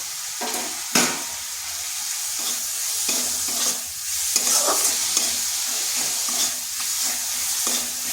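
Spices (turmeric and garam masala) frying in a pan are stirred, with a soft ongoing sizzle under repeated scraping strokes of the spoon against the pan, close and moderately loud.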